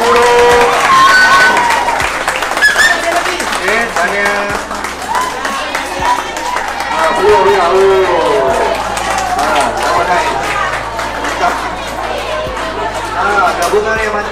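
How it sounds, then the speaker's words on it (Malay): Applause at a school SPM exam results ceremony, a steady dense patter of many hands filling the hall, with crowd chatter mixed underneath. "Okey, berikan tepukan lagi,"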